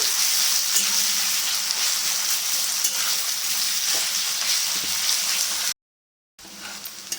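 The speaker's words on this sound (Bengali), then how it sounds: "পেঁয়াজটাকে লাল করে ভাজতে হবে" Steady, loud sizzling of chopped onions frying in hot oil for mutton curry, a dense crackle that continues unbroken before cutting out briefly and resuming.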